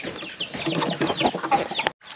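Farm turkeys give a close, busy run of clucks and gobbling calls that overlap for about two seconds before cutting off abruptly, with no talk.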